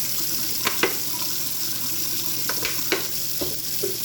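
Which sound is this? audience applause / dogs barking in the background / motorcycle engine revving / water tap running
water tap running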